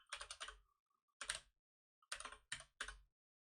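Keys on a computer keyboard are struck in quick clustered bursts for a typing game, a few clattering runs separated by short pauses, close and crisp in a quiet room.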